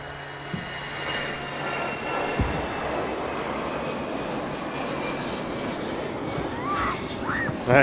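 An Airbus airliner, one of the A319, A320 or A321 family, passes at Manchester Airport with a broad, steady jet roar that holds throughout. It sounds moderately distant and is heard alone, with no voices over it.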